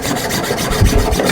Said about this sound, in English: Saw off the top half of your trimmer.